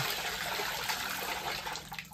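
Freshwater clam shells brought from a river are washed in water, making a steady splash and trickle close by with faint clicks, and no one speaks.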